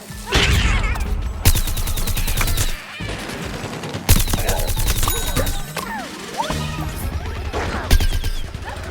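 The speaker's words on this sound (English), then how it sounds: "Here she is using her sunbeam ability, which is a rooted ability where she can't move" Sunflower's rooted sunbeam ability in Plants vs. Zombies Garden Warfare, 24-player Team Vanquish: loud sustained crackling blasts with bursts of rapid firing and impacts, busy game effects throughout.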